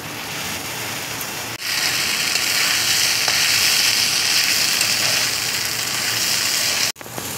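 Gobindobhog rice frying for pulao as spices go into the pan, giving a steady, close hiss of sizzling with no talk, cut by two brief silent breaks.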